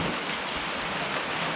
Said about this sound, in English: it's still raining, as you can hear